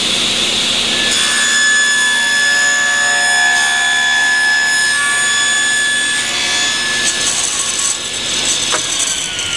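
Table saw ripping thin quarter-inch cherry strips against the fence, a loud steady high-pitched whine with tonal hum running continuously through the cut, nearby with no talking.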